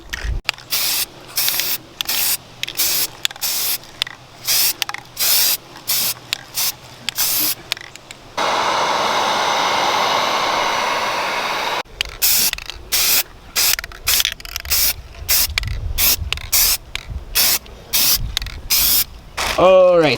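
Rust-Oleum high performance gloss black spray paint hissing from an aerosol can in many short bursts, with one long continuous spray in the middle; loud and close.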